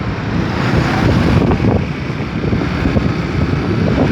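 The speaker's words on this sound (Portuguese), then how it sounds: "Dando um rolê com Mel, de moto, de bros." Honda Bros motorcycle riding at speed, a steady rushing roar of engine and wind buffeting the microphone throughout, close and loud with no talk.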